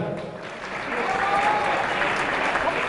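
Crowd at a pro boxing event in Fürstenwalde applauding the volunteers, a brief burst of dense clapping that swells after a quieter start and stays full and close, with faint voices mixed in.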